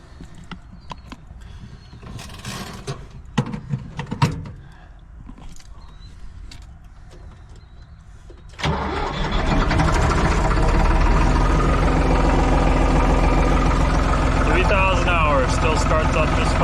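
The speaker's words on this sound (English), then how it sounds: "go ahead and get the skid started up" A skid steer engine cranks and catches partway through, then settles into a loud, steady diesel idle with a rough rumble; people talk and clatter nearby before it starts.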